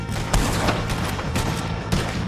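Rapid gunfire in a shootout against the O'Driscoll gang in Red Dead Redemption 2, several loud, sharp shots cracking over a dense, noisy battle background.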